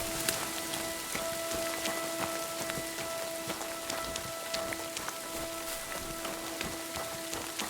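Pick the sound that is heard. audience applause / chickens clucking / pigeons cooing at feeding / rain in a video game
rain in a video game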